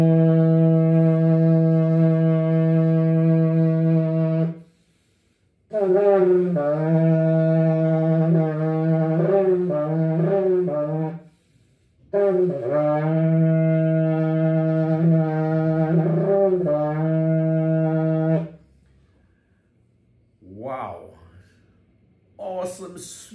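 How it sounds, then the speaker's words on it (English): A huge six-tone sable sabre shofar with a full natural finish is blown in long, loud, brassy blasts with wavering pitch bends and breaks between them, ending with brief speech nearby. "It's a huge shofar."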